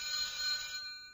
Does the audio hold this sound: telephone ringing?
yes